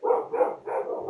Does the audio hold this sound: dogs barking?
yes